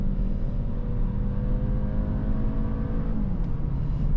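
A 2025 Audi A5 engine drones steadily and climbs in pitch as it accelerates, loud and close from inside the car, with a brief gear shift near the end.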